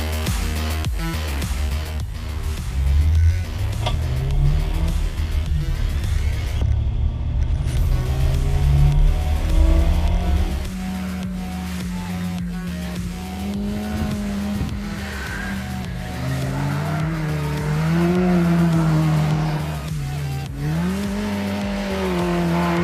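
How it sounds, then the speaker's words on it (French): Modified Nissan Micra race cars for the Nissan Micra Cup lap the Montmagny autodrome, their engines droning loud and close with rising and falling pitch as they pass, tires squealing at moments. "On a une Nissan Micra modifiée pour la coupe Nissan Micra"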